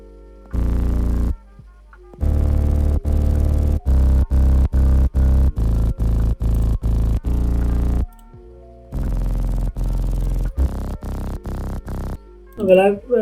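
Future bass synth bass layers with sidechain automation, choppy pulsing chord stabs that cut in and out rhythmically, a short vocal sound at the end.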